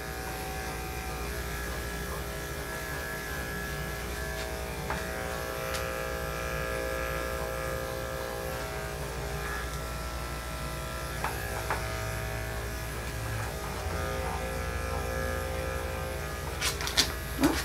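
Electric clipper buzzing steadily while shaving a poodle's coat during a full groom, a continuous close hum with small shifts in pitch as the blade moves through the hair, near and alone with only faint clicks toward the end.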